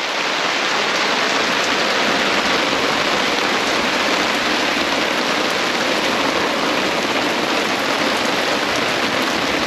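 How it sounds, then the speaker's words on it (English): Steady, loud rain falling as a dense, unbroken hiss of drops on surfaces, constant throughout with no pauses and no voices. "the rain's coming, so I'm going to set up a canopy"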